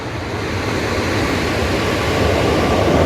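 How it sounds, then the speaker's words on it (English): A train rolls past close by at a Japanese rail spot, a steady loud broadband rumble and rush that swells slightly over the few seconds with no talking. "maybe this is a bad spot with all the trains"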